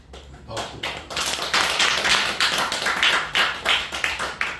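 A church congregation applauds after being told a member brought rice cakes for the Chuseok holiday; a dense burst of clapping swells from scattered first claps into steady, fairly close applause lasting several seconds.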